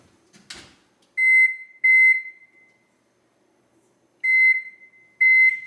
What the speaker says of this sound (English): So we'll set the timer for 27 minutes.